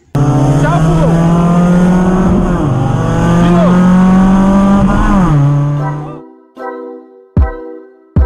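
Fiat Tempra 2.0 16V engine revving hard with an abnormal mechanical noise, loud and close, pitch rising and dropping in two long surges before cutting off, followed by a few sharp knocks.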